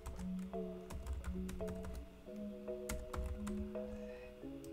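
An email address being typed on a computer keyboard, quick irregular key clicks close by and faint, over a quiet background of steady tonal hum.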